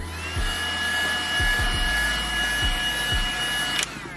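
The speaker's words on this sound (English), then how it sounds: "I'll hit it a little bit with my heat gun." Heat gun blowing hot air over damaged car leather, a steady airy whoosh with a constant high whine, joined by a few soft low thumps, then cutting off near the end.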